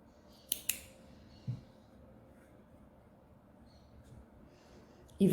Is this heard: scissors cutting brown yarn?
yes